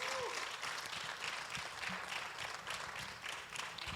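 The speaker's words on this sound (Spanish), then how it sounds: "big applause to the Lord." A church congregation at a bilingual Spanish-English service gives a sustained round of applause, fairly quiet and even, with a brief vocal sound over the clapping.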